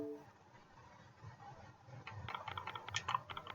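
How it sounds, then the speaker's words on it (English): Quiet typing on a computer keyboard, a soft run of key clicks that grows busier and louder toward the end, with no voices. "So what I'm going to do here is just type in search."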